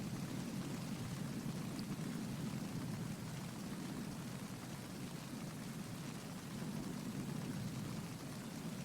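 Steady rainfall in Metal Gear Solid 2, a constant hiss of rain with a low rumbling undertone, even and unbroken throughout with no voices.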